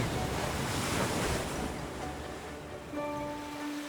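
Steady ocean surf rushes and roars with wind buffeting the microphone, a low tone briefly sounding near the end.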